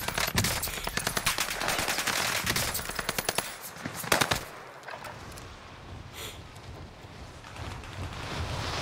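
Rapid automatic gunfire from a Call of Duty Warzone match on the Fortune's Keep map, with dense bursts of shots for several seconds before thinning into scattered distant pops and ambient noise.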